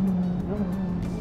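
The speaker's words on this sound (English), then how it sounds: "we're about to have a very loud car" A loud race car at Brands Hatch circuit roars past close by, its engine note holding steady across the whole moment with a slight pitch bend partway through.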